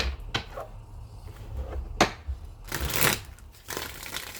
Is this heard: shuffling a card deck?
yes